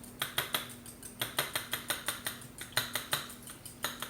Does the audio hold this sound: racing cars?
no